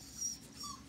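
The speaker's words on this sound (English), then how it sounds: "I have some cute puppies." Puppies give a couple of faint, brief high whimpers within a quiet moment, with no talk over them.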